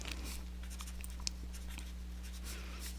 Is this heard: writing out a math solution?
yes